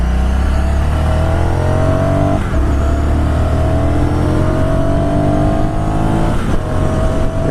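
A 2016 Ducati Scrambler Sixty2 engine drones loud and close while riding, the pitch climbing through the revs, dipping at gear changes and rising again, with no voices over it.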